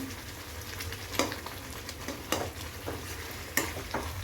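Paneer fries in a pan with chili for paneer taka tak, a soft continuous sizzle broken by several sharp scrapes and clacks of a spoon stirring at irregular intervals.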